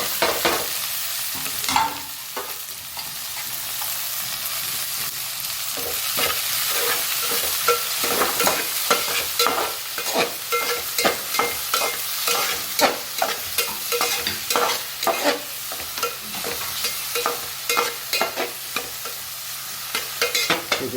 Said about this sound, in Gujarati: ડુંગળી અને ટામેટાને આપણે ખાવા દઈએ.